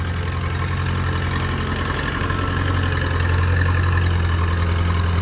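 A 1969 backhoe's engine idles steadily at close range, with a loud, even, low rumble and no breaks.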